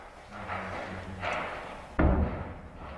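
An ammunition depot explodes at Donetsk airport during combat, a sudden heavy boom at the two-second mark over a low, rumbling background of earlier distant blasts.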